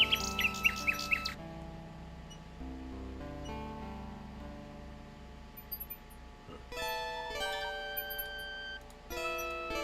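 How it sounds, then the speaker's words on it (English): Synthesized nightingale song from King's Quest VI, short chirping trills over layered game music with tonal notes and ticking clock-like sounds, the bird calls brief and mixed into the score. "The nightingale only looks at Alexander curiously and continues to sing."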